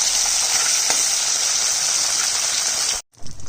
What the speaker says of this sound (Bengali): মাছটা ভাজা হয়ে যাচ্ছে কিন্তু তেলটা কেমন হয়ে গেল।